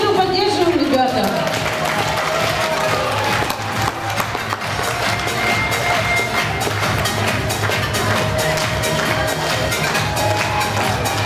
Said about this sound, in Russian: еще раз провожаем наших выпускников под бурные аплодисменты.